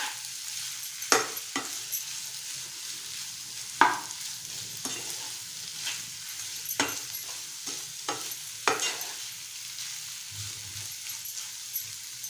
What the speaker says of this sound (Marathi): आणि छान एकजीव करून घेऊया।